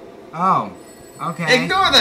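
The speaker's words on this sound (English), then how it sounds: "Uh-oh, that's the phone." A telephone rings in The Sims 3, its bell-like tones sounding in short bursts mixed in with a voice talking over it.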